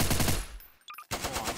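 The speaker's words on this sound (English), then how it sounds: "Do you hear my gunshots, huh?" Rapid bursts of automatic gunfire in Garry's Mod Trouble in Terrorist Town, loud and close, broken by a short pause with a brief electronic tone before the shooting resumes.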